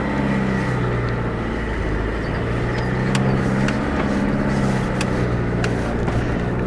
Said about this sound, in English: Ignition on, one set of heat to start the engine, heat the diesel injectors, off she goes.